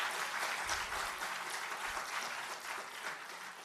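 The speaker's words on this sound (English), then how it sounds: "Please give them a round of applause." An audience at a Georgetown University showcase claps steadily for a few seconds, a dense wash of applause at moderate distance with no talk.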